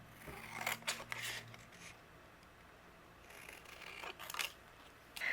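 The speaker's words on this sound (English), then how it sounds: "And then I'll just trim away the excess here." Scissors trimming excess white cardstock for a handmade card, a few crisp snipping cuts close by, in two short bursts separated by a quiet pause.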